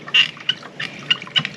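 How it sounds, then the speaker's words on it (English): A button being pressed in squeaks in short, sharp, high-pitched bursts, several irregular chirps over a quiet background, close by. "that squeaking is the button pressing in"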